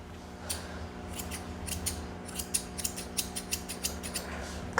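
Small grooming scissors snip through a Morkie's fur in quick, irregular metallic clicks, close and fairly quiet over a faint background hum.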